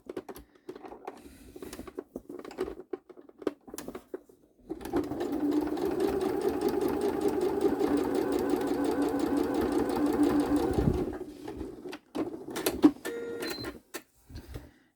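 A sewing machine stitches a small fabric pouch, starting after scattered handling clicks and then running in one long, steady, close-up whir of rapid needle strokes for about six seconds before stopping amid more taps and rustles.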